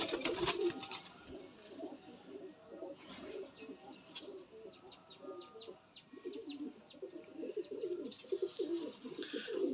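Kamagar pigeons coo repeatedly in low, throaty rolls that run steadily, joined by faint higher chirps from other birds nearby.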